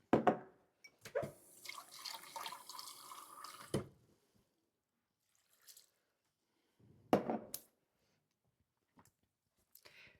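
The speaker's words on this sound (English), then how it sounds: "And then add a few cups of water." A few cups of water go into a pot of warming spices in short splashing bursts, one long pour at the start and another brief one later, separated by near silence in a quiet room.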